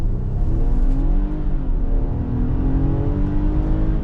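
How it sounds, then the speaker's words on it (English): A 2023 Infiniti QX60 Luxe AWD accelerating hard, heard from inside the cabin as a loud, continuous engine drone with road roar that shifts pitch as it pulls through the gears. "Didn't lock them up, and now we take off again."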